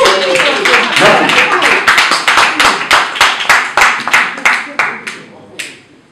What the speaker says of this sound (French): Il va applaudir. Applaudissez.